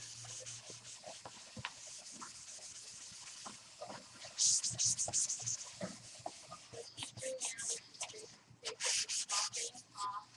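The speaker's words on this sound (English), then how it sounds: "I'm buffing it off. I'm trying to remove the wax and just leave the color from the pigment of the crayon." A towel buffs melted crayon wax off a surface in rough rubbing strokes, quiet at first and then turning into louder, rhythmic bursts of scrubbing near the end.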